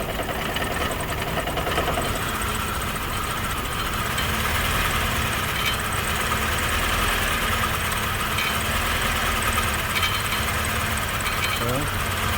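A car engine with a vibration fault runs steadily and loud throughout, a dense mechanical drone that holds even with no clear revs rising out of it.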